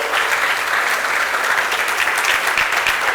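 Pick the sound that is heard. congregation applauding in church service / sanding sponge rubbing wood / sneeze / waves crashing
congregation applauding in church service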